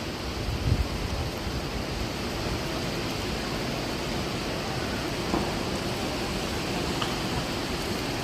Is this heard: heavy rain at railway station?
yes